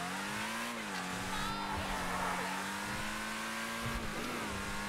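The Benefactor LM87 race car, modeled on the Mercedes-Benz C11, drones with a steady high-revving engine in GTA 5 Online, its pitch dipping and climbing slightly through gear changes, loud and close throughout.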